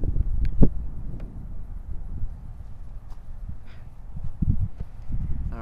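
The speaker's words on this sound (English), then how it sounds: "The wind is blowing against me right now." Wind buffeting a microphone outdoors during a JJRC H98 quadcopter flight, low rumbling gusts that swell and fade with a few thumps and faint clicks.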